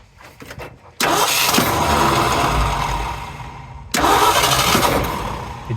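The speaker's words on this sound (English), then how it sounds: "we started playing with trying to get ignition for it" A 1968 Ford F250 V8 with gas poured into the carburetor cranks twice, each attempt a loud, steady churning roar lasting a few seconds, close to the microphone with no talking.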